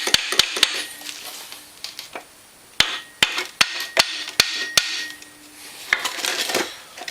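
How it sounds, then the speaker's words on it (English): Sharp metallic taps of a brass hammer striking the end of a metal shaft on a Honda Fourtrax 300 engine, a dozen or so irregular blows ringing close up. "Taking this brass hammer and tapping the end of the shaft."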